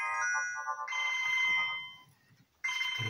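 A phone ringtone plays a bright, electronic melodic tune in two bursts separated by a short quiet gap, clear and moderately loud with no voices.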